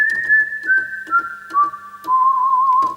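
A Lowrey electronic organ's whistle voice plays a clean, pure tone stepping down through several held notes, with soft key clicks and a low hum underneath.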